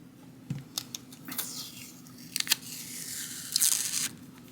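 Tape is torn and pressed along a guitar fret during a refret, with several sharp ripping and crinkling bursts, close and fairly quiet, separated by short pauses and a longer tearing sound near the end.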